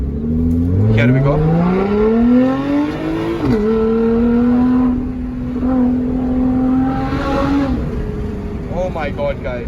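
Lotus Evora GT in race mode pulling hard through the gears, its engine note climbing loudly and closely with quick shifts, while people talk over it.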